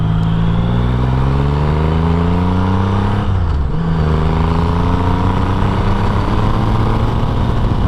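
A Triumph Rocket III motorcycle engine revs hard and loud, rising through gears in steady climbing sweeps, with a brief dip and shift midway before pulling strongly again, with no talking.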